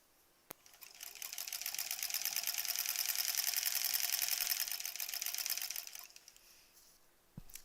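A sewing machine stitches quilt sashing for a granny squares quilt in one steady, rapid mechanical whir lasting several seconds, close and fairly loud, starting after a brief click and stopping with a short tap at the end.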